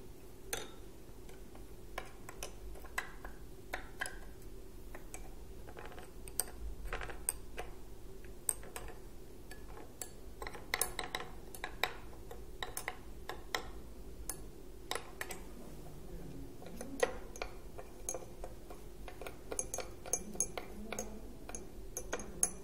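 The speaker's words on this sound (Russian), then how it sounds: "Перемешиваем содержимое каждого стакана стеклянной палочкой." Glass rod stirring water and dissolving salts such as copper sulfate in several glass beakers during a school chemistry demonstration, giving light clinks and ticks that repeat at an irregular pace throughout, quiet and close.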